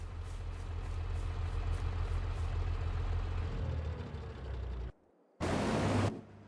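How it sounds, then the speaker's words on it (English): A tractor engine idles in Farming Simulator 22, a steady low drone that cuts out abruptly near the end, briefly followed by a short burst of noise. "Let's shut this tractor off."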